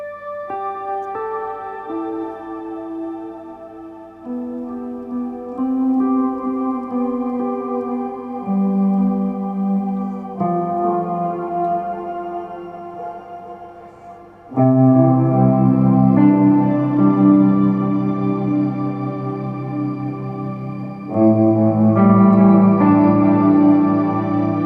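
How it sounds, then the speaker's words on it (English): Layered guitar chords ring out through washy ambient reverb, sustained and shimmering, growing fuller and louder partway through with no voices. "use it in combination with the other ambient reverb"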